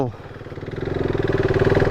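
A modified, track-ready KTM RC390 motorcycle pulls away, its engine note climbing steadily in pitch and loudness as it accelerates, close and continuous.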